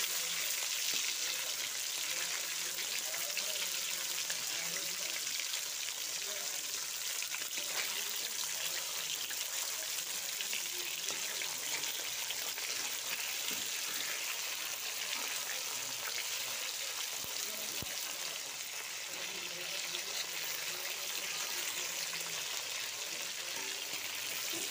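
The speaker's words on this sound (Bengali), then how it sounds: "মাছ কড়াইতে বসাই দিচ্ছি। তো ভাজি হয়ে যাচ্ছে, দেখো তোমরা। মাছটা সুন্দর করে ভেজে নিচ্ছি।" Bhetki fish fries in oil in a wok, producing a steady, even crackling sizzle that holds unchanged for the whole stretch with no voices.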